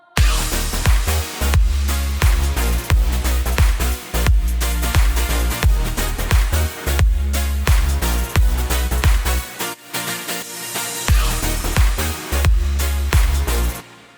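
A full electronic beat for a vocal-chop lead track plays loud and steady, with heavy low kicks, sustained chords and sharp claps repeating in a driving rhythm, briefly dropping out near the ten-second mark before returning.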